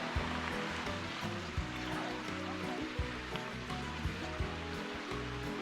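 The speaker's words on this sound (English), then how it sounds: "There's a little stream going right along where we are right here." A small stream runs beside a hiking trail near Walhalla, South Carolina, its steady rushing and trickling water continuous and close throughout.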